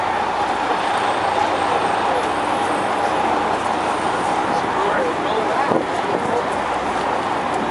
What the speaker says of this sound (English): Q70 bus on our way to LaGuardia.